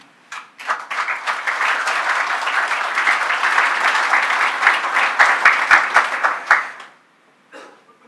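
Loud, sustained applause from an audience at the opening ceremony of the INTERPOL Global Complex for Innovation in Singapore, dense clapping lasting about six seconds before stopping abruptly, followed by a brief faint patter of a few more claps.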